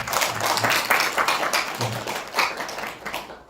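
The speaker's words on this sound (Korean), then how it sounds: "우리 박수로 한번 환영하십시다" An audience at a pastors' forum claps to welcome a standing guest, a dense burst of applause lasting a few seconds before fading out.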